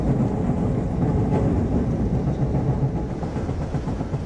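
A passenger train crosses the second-longest rail bridge in North America near Benicia at track speed, producing a loud, steady rumble and rolling roar with faint rhythmic clatter, heard close from on board without speech.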